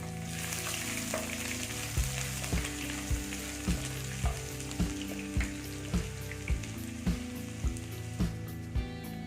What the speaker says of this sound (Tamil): ஒரு பூண்டு ஃபுல்லாகவே எடுத்து சின்ன சின்னதாக கட் பண்ணி வச்சுருக்கேன் அது மாதிரி இஞ்சி ஒரு ரெண்டு இன்ச்சு அளவுக்கு தோல் சீவிட்டு எடுத்து வச்சுருக்கேன் இதையும் இதில் போட்டுடலாம்